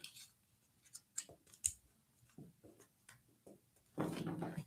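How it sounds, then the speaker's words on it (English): Scissors trim the edge off a bullet journal planner page, giving a series of soft, close snips and clicks spaced unevenly, followed by a louder rustle of paper at the end. "I am going to cut off this edge"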